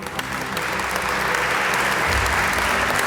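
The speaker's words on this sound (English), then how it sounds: "Let's hear it for Greg Rosenbaum" Audience applauding steadily at a heritage month celebration in the Kennedy Caucus Room of the Russell Senate Office Building on Capitol Hill, a dense continuous clapping that swells slightly toward the end.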